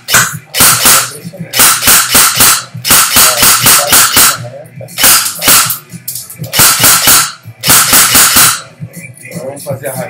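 Airsoft AEG RK74 AK-style rifle firing semi-auto, loud close crisp snapping shots in quick clusters of two to four with short pauses between.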